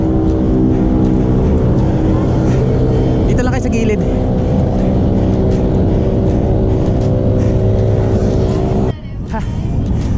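Dense car traffic on the EDSA flyover in Metro Manila, a steady loud roar of engines and passing vehicles heard close by with wind rumble, while a person talks over it throughout; the noise drops briefly near the end.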